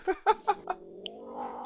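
A cat meows several times in quick succession, close and fairly clear, followed by quieter background noise.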